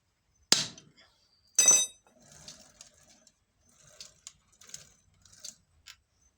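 A bicycle's loose bottom bracket is tapped with a hammer to tighten it, giving two sharp metallic strikes followed by a series of lighter clinks and taps, close and clear, with no talking.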